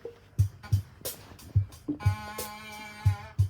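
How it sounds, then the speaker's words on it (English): A sampled human voice singing a sustained "ah", played back on a synth keyboard, rises as a steady harmonic tone over a looping drum-like thump with regular low beats. "That's a vocal sample of me going ah"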